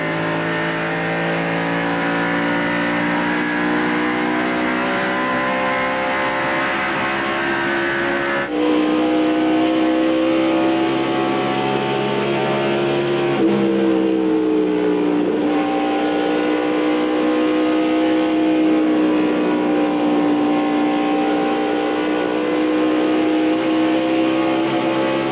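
NASCAR stock cars race in the 1995 Mountain Dew Southern 500, heard from an on-board camera as a loud, continuous engine roar that holds high revs, with pitch dips and climbs through gear changes and lifts.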